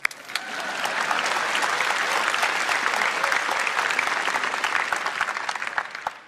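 Enthusiastic applause rises from the audience at the Samsung Galaxy Note 9 launch event in the Philippines, a thick sustained roar of clapping that swells quickly, holds steady, then tapers off at the end.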